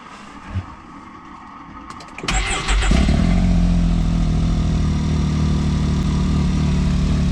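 A 2022 Can-Am Maverick X3 XRC Turbo RR side-by-side engine cranks and catches after a couple of seconds of quiet rustling, then settles into a steady, close, low rumbling idle.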